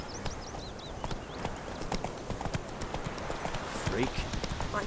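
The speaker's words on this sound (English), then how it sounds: "Run, Roach." Horse hooves galloping in The Witcher 3 video game: a quick, steady clip-clop of hoofbeats, up close and continuous, with a voice speaking over it.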